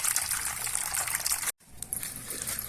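Water strained off cooked small spinach greens pours and trickles steadily in a close, splashy stream, broken by one brief pause before flowing again.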